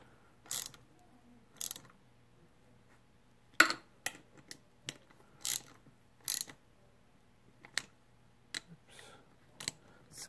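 Bearing retainer bolts on a T5 transmission countershaft are tightened with a ratchet, giving sharp, close ratcheting clicks in short irregular bursts separated by near silence.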